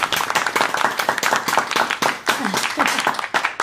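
Hands clapping in a rapid, uneven patter that runs continuously for several seconds, close and fairly loud, with voices mixed in.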